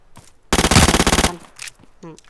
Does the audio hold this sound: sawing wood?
no